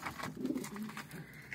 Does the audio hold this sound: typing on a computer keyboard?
no